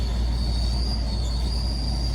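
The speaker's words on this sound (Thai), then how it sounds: "เสียงเสียดสีกัน มันคล้ายๆ เสียงเสียดสี ระว่างผ่าเบรกกับจานเบรกประมาณนี้" A continuous high-pitched squeal from the wheel of an Isuzu pickup, like brake pads rubbing the brake disc, steady and close over a low rolling rumble, with no pauses.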